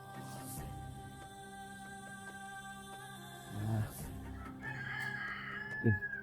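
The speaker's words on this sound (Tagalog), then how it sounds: "May manok ihalas yun." A wild rooster crows nearby, followed by a few short clucks against a quiet outdoor background.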